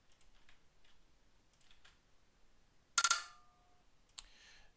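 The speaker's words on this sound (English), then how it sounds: "His keyboard, okay." A player's computer keyboard during a speed-mode tournament of the fighting game Hellish Quart, with faint scattered key clicks, a louder cluster of taps and a ringing clatter partway through, then one more sharp click.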